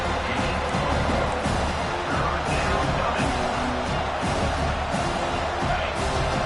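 A home crowd cheers steadily throughout a football video game as the defense tries to get off the field on third down, a dense, loud roar that holds level across the whole stretch.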